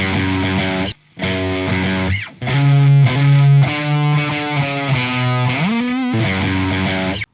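An electric guitar played through GP-180 and GP-200 amp modelers, a distorted, effects-laden tone with sustained chords and a bending note, loud and continuous apart from a brief gap.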